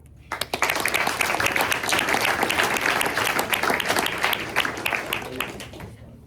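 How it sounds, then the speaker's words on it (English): A luncheon audience breaks into applause: a few scattered claps build quickly into dense, sustained clapping from a crowd that holds strong for several seconds before tapering slightly. "one more round of applause for Bishop Hoops"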